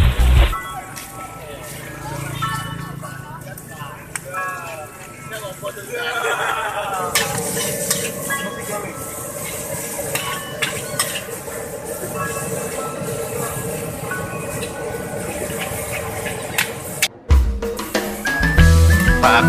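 Street vendor stir-frying nasi goreng and mie goreng at a pushcart in Tuban's town square, a steady sizzle and scraping under voices and night street noise throughout.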